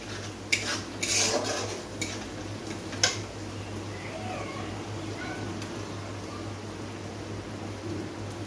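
Spice paste of ground cumin and mustard being stirred and fried in a pan for a catla fish curry with coconut milk, with a few sharp metallic scrapes and clinks of a spoon early on over a low, steady sizzle.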